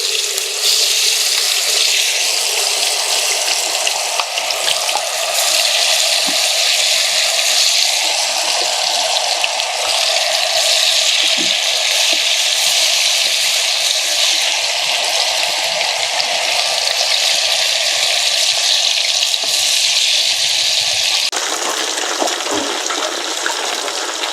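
Fish kebab pieces fry in hot oil with a loud, steady, broadband sizzle that hisses continuously, briefly dipping and then resuming near the end, with no talking.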